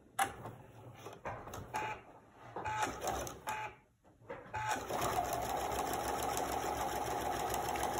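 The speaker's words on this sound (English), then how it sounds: "we're just going to start at the edge and we're going to sew all the way down" A sewing machine runs a basting stitch through pillowcase fabric: short bursts of rapid close clatter, a brief pause, then a long steady run of fast stitching.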